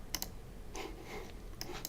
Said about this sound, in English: I already started typing this